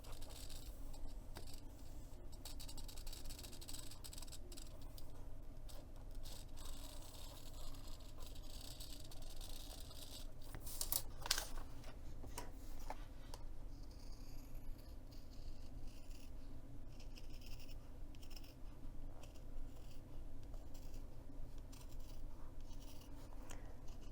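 Scissors snip and slide through thick cork fabric in a series of quiet crunching cuts, with faint rubbing and handling noises between them.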